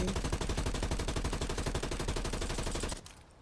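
Rapid automatic fire from an XM4 rifle in the Warzone video game, a dense sustained burst of shots for about three seconds before cutting off to quieter game ambience.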